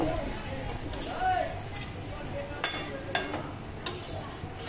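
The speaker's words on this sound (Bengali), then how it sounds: "চিকেনটা কষা চলছে এখন।" Mutton sautéing in a pan while being stirred, a steady sizzle with a few scraping clinks of the spoon, close by, with people talking over it.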